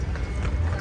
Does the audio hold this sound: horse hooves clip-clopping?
yes